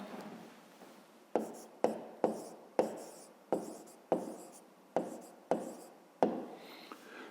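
A pen writes the answer to a maths exercise on paper in about a dozen short, regular scratchy strokes, each one starting crisply and then fading, close and quiet.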